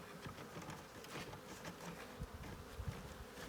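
A dense, steady insect buzz of many honeybees at a hive fills the clip at close range, with a few brief louder thumps and no talking.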